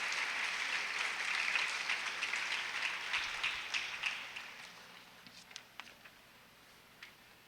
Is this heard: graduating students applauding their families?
yes